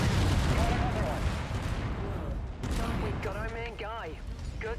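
Mech weapons in MechWarrior 5 keep up a steady barrage of gunfire and heavy booms, loud and continuous, with warbling warning or radio tones and voices layered over the battle.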